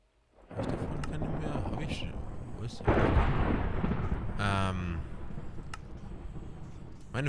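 Thunder rolls during a thunderstorm in Minecraft Sky Factory 4, a long loud rumbling crash swelling again midway and fading slowly, with someone talking over parts of it.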